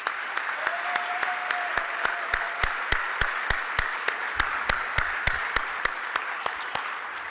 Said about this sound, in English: Let's give a round of applause to all the student athletes and coaches.